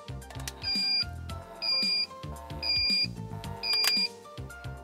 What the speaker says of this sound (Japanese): アラームを鳴らして出力をカットしてくれます。